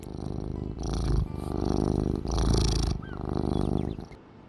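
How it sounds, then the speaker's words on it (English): A cat purrs in a game setting, a low steady rumble repeated in several swelling bursts of roughly a second each, with short quieter gaps between them and no talking. "I hear the purrs."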